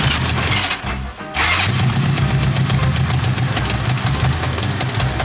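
A vintage motorcycle engine with no kickstart and a weak battery sputters into life and settles into a loud, rough, uneven idle, close by, with a brief dip and surge early on.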